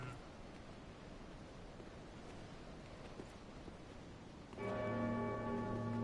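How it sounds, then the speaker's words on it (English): A church bell in Dark Souls 3 rings in near the end as a loud, sustained metallic toll over faint, windy ambient noise. "that bell keeps ringing out"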